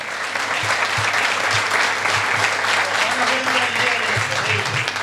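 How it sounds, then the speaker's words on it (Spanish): Sustained applause from an audience at a fishing club gathering in Minas, Lavalleja, Uruguay, steady dense clapping throughout with a few low thumps underneath. "Por favor, fuerte aplauso para ellos."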